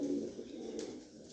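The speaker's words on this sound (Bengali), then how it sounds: "তো কবুতর জোড়া দেখেন" A pair of large pigeons, a red-eyed hen and cock, give a brief low coo at close range, soft and continuous for a moment.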